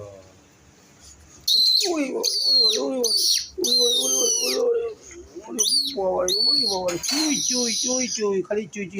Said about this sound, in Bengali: চড়ুই পাখির আওয়াজ বিশাল আওয়াজ